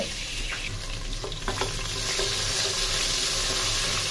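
Onions frying in hot oil in a saucepan while pilau is being made, a steady close sizzle running throughout with a few clicks of utensil contact and faint water sounds, no voices.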